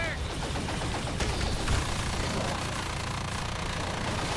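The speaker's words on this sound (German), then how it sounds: "Scheiße, Luftschlag trifft ihn direkt." Air strike hitting a player in the video game Evolve, a dense, continuous barrage of rapid booming impacts and gunfire-like bursts, loud and close throughout, with people talking over it.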